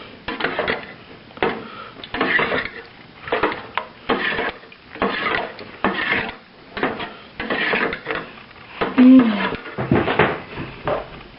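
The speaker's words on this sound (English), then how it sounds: "Just add that right in. Oh, it smells super good. Give it a nice stir up." A spoon stirs tomato soup with added water in a pot, giving repeated close scraping and clinking strokes in a steady rhythm, with faint speech in places.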